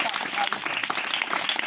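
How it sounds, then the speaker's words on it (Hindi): Dense, steady applause fills a Good Friday church meeting at JaiJaipur, Chhattisgarh, with a voice heard over the clapping crowd. "प्रभु की जोरदार ताली बजा के सब मेहनत"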